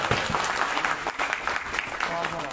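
Audience applause at a Congress party event in Shimla marking the state president's three-year term, a steady dense clapping that fills the whole moment at moderate loudness.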